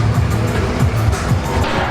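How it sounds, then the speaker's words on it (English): A Dodge Viper drift car at a Formula D Pro-Am drift round rolls past nearby, a steady engine drone with no clear tire squeal, continuous for under two seconds amid event noise. "don't get run over by the Viper"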